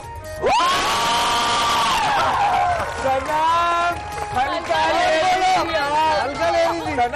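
A wedding show crowd claps and cheers loudly and continuously, with rising and falling voices and shouts mixed into a thick, busy hubbub.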